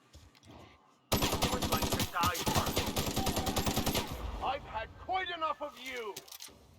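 Hunting rifle fire in the video game The Outer Worlds: a sudden burst of rapid gunshots lasting about three seconds, followed by voices talking over lingering game sounds.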